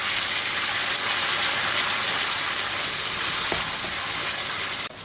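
Base gravy for a prawn jalfrezi, British Indian restaurant style, sizzles and bubbles hard in a hot pan, a steady loud frying hiss that holds throughout before dropping off abruptly near the end.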